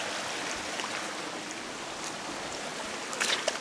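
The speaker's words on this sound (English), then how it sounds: "This is also the other access point to the creek." A creek flowing outdoors, a steady soft broadband wash of water with no speech, faint and continuous with a slight rise near the end.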